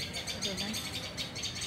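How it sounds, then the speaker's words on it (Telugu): Small birds chirping in rapid repeated bursts close by, fairly faint, with a person talking beneath them. "చిన్న పిట్టలు చాలా రోజులే రాక ఇంకా ఇప్పుడు వస్తున్నాయి."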